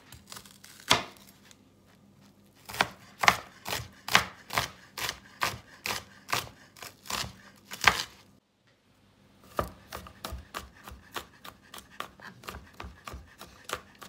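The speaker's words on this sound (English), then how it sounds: "I'm now chopping up my garlic." A knife chops garlic rapidly on a cutting board, sharp regular taps in quick bursts, with a short pause before the chopping resumes, close and clear.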